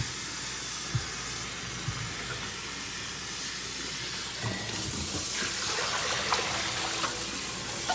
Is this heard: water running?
yes